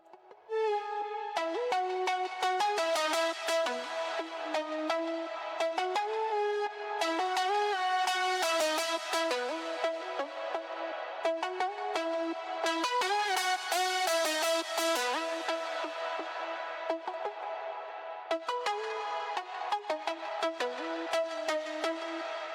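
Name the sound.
synth pluck through envelope follower filter plugin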